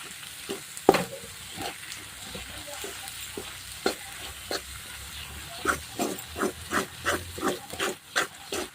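A spoon scrapes and stirs black masala and turmeric into bitter gourd curry in a pan, in soft irregular strokes that build into a steady, close rhythm of scraping taps toward the end.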